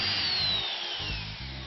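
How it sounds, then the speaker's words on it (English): Power drill pre-drilling a Meranti wood frame for 40mm chipboard screws, a short close whine with pitch sliding down as the bit bites, no speech. "we pre-drill and use some more of our 40mm long chipboard screws to fix the Meranti"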